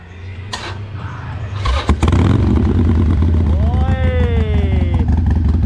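A customized Harley-Davidson motorcycle engine, a 2017 Forty-Eight or 2019 Fat Bob, rumbles close by and rises into a loud rev after a few clattering knocks, with a voice speaking over it.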